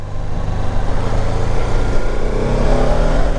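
A BMW F450 GS motorcycle engine revs under throttle, a loud, close, rising and falling drone with a steady buzzing pulse and no talk.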